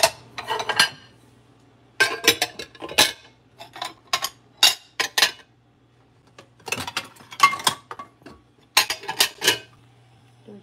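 Dishes and utensils clatter and clink while being washed in a home kitchen, sharp metallic and ceramic knocks in irregular clusters with gaps between, over a low steady hum.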